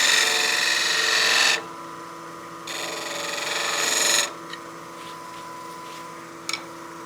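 A wood lathe turns a witch block head while a tool cuts a tenon, giving bursts of bright hissing scrape that stop and restart over a steady motor hum, with a small tap near the end.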